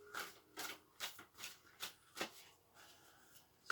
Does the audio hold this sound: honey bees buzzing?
no